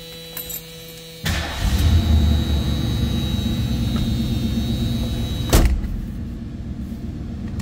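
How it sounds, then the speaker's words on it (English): A 1971 Ford Mustang Mach 1 engine fires up with a sharp burst, then settles into a loud, steady rumbling idle close by, with a second brief pop partway through. "Listen to how that car started."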